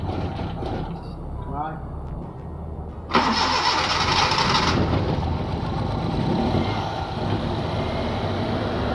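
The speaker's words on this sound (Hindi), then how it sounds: "गाड़ी को स्टार्ट करने लगे हैं अब हम, और फाइनली हमारी गाड़ी स्टार्ट हो चुकी है" A Suzuki Bolan engine cranks and turns over, then settles into a steady loud running rumble, recorded close by with a noisy background.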